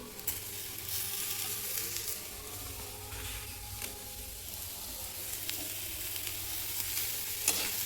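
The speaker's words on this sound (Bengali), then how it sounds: "তো এটাকে একদম ভালো করে ভেজে নেব।" Potato and tomato frying in a pan for chicken Maggi, a steady low sizzle with soft stirring scrapes throughout and no speech.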